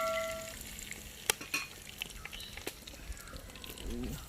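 Dried red chillies, cardamom pods, cinnamon and cloves crackle softly in hot oil for chicken kondattam. A low, even sizzle is broken by scattered taps of a spoon against the pan.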